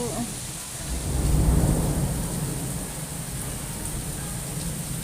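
Thunder rumbles beneath steady heavy rain during a Kalbaishakhi storm in Dhaka, with a deep roll swelling early and then easing into a constant, loud downpour hiss.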